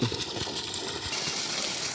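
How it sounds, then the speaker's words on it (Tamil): Water gushes hard and steadily from a three-inch pipe fed by a 5 HP Texmo pump motor, a loud, continuous rushing splash with no voices. "ஃபைவ் ஹெச்பி டெக்ஸ்மோ மோட்டார் தான் போட்டிருக்கோம் தண்ணி நல்லாவே வந்துட்டுருக்கு"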